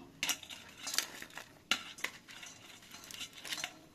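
Cooked rotis being torn into small pieces by hand, a few sharp close bursts of tearing and rustling with quiet gaps between, no voices.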